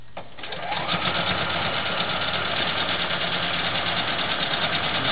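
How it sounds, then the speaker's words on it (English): A sewing machine stitches a tied quilt, starting up after a brief pause and then running at a steady, fast whirring chatter, close and continuous with no talking. "Start sewing it down on this side."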